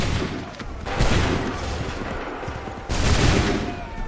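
Musket volleys in Assassin's Creed 3, two dense bursts of massed gunfire cracking and rumbling, each followed by a rolling tail.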